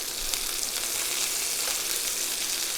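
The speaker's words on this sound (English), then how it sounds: "While that second batch is frying" Turkey meatballs fry in a pan with a steady, close, even sizzle that holds throughout without pause, and no one speaks.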